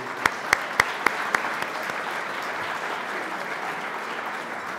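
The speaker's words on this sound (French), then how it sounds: "une bonne main d'applaudissements pour tout ce beau monde." Applause at an Optimist Clubs tribute ceremony at the Parliament in Québec opens with a few sharp, loud claps close by, then settles into a sustained, even patter of many hands clapping across the room.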